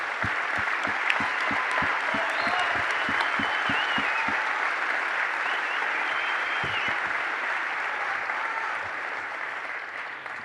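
An audience applauds at the end of a political speech, with steady, dense clapping from a sizable crowd that carries on for about ten seconds, a few louder individual claps standing out near the start.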